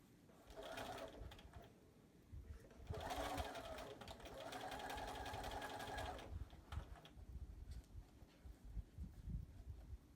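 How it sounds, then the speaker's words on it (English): A home sewing machine stitches close to the edges of a charm-square tote bag in bursts, buzzing in short runs with pauses between them, quiet and close with no talk over it. "So I'm going to sew pretty close to the edges"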